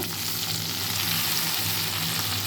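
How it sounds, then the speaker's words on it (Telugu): Coriander leaves fry in a pan of oil with a steady, close sizzle that holds even and unbroken throughout, and no voices are heard. "ఇంకోటి వేగాక కొత్తిమీర కూడా వేసుకుంటాను"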